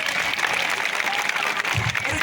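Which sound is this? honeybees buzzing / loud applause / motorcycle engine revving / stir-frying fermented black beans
loud applause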